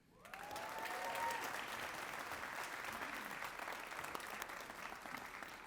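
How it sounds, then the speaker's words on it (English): An audience at an awards night claps in a sustained, dense round of applause that rises quickly and holds steady for several seconds, heard from within the hall. "give them another round of applause"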